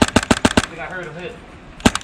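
Airsoft gunfire from a VFC MK18 rifle during an outdoor game: a quick burst of five sharp, close snapping shots, a short gap with faint voices, then one more crack.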